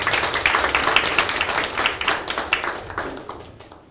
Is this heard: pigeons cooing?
no